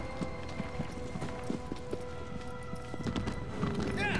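Horse hooves clop in a steady galloping rhythm in Shadow of the Colossus, close and continuous under a faint tonal game backdrop, with no talking over them.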